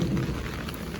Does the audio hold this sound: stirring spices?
no